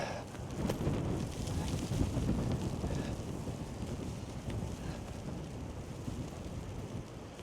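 Strong wind roars steadily across the microphone, a dense, rumbling buffeting that hardly lets up from start to finish.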